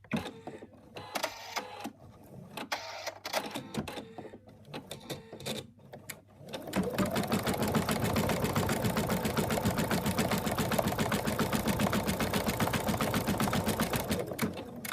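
Embroidery sewing machine stitching an elephant's right arm in an in-the-hoop project: quieter handling noises at first, then a steady, loud, rapid mechanical stitching drone that runs continuously to the end.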